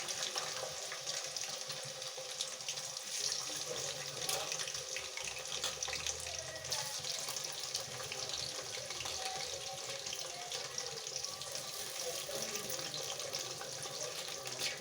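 Bitter gourd pieces are slipped into hot oil for deep frying, giving a steady, dense sizzle and crackle that runs unbroken at moderate level with no talking.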